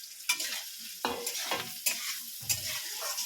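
Chopped ginger and green chillies frying in a pan for chilli chicken, with a few distinct bursts of sizzle as they are stirred, crackling brightly between quieter moments.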